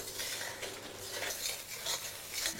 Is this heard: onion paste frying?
yes